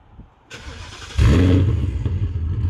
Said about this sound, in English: We'll go and start her up.